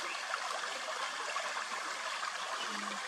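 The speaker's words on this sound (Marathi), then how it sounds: "आणि बघा कसं वाहता झरा आहे हा" A steady, rushing forest stream flows continuously nearby in a wildlife buffer zone, a full, even wash of sound with no voices.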